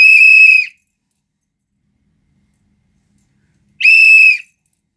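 Two sharp, shrill whistle blasts, each under a second long, separated by about three seconds of silence.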